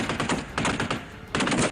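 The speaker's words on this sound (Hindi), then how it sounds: "एक के बाद एक इतनी गोलियां दागी गईं कि वीरान इलाका गोलियों की गड़गड़ाहट से गूंज उठा।" Automatic gunfire from an army exercise in a deserted area of northern Jordan, three loud sustained bursts of rapid shots separated by brief gaps, echoing with no voices.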